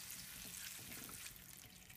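A cup of water poured over two packets of Maggi noodles in a pan, a soft, steady hiss and splash with a faint sizzle, brief and quiet.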